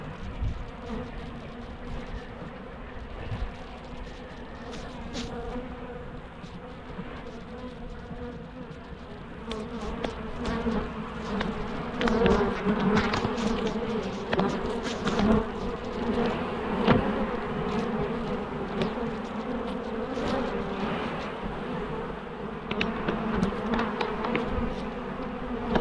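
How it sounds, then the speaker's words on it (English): Dense, steady buzzing of a honeybee swarm around an open Layens hive, many bees droning close by, growing louder midway with sharp passes of individual bees. "So we've still got a lot of bees on the blanket."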